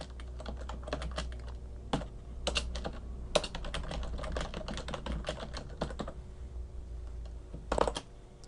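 Fast, continuous typing on a computer keyboard, with dense clusters of key clicks, a few short pauses and heavier thumps near the end, close and alone over a low steady hum.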